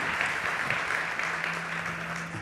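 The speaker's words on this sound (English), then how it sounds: "Big applause for Pablo." An audience at a startup pitch competition claps steadily and fairly loudly for a presenter, a dense, even wash of applause throughout with a faint voice underneath.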